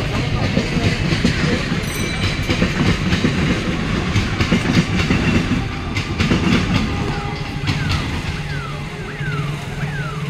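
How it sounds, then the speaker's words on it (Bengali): A train rumbles past close by on one of several parallel lines, steady loud clatter of wheels on rails, with squealing metallic tones near the end. "চারখানা পাঁচখানা লাইন, প্রত্যেকটা দিয়ে ট্রেন পাস করে"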